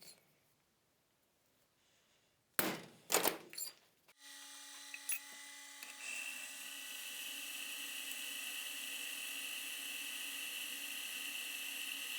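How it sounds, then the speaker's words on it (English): A few clunks and a brief burst of handling noise, then a drill press motor spins up into a steady high whine that continues at a constant level, drilling holes in a steel rasp. "let's get over to the drill press and get them drilled"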